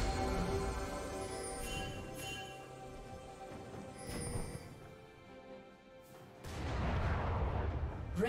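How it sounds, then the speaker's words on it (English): Turret in League of Legends being destroyed: rumbling booms and crumbling blasts over a dense game soundscape with sustained tonal effects, then a heavy burst of noise near the end. "Red team's turret has been destroyed."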